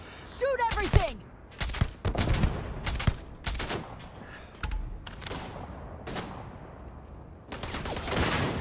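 Loud gunfire in the sci-fi game Starfield, a series of sharp repeated bursts separated by short pauses, with shouting voices over the firefight.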